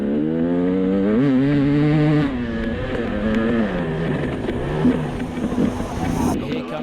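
A Husqvarna TE300 enduro dirt bike runs on an enduro loop, its engine note droning and rising, then wavering as it moves past, sustained and fairly loud, with some background noise.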